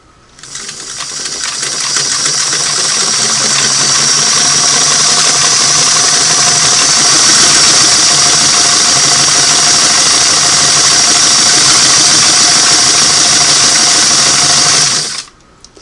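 A Singer Model 338 sewing machine stitches a wide crescent pattern with a fashion disc and special purpose foot, a steady continuous whirring and rapid needle clatter running for about thirteen seconds with no talk.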